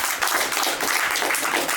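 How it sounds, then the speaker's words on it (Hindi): Audience applause at the opening ceremony of a new GSRC branch in Lucknow, a dense, loud burst of many hands clapping close by, continuous for a short moment without speech. "जोरदार तालियां।"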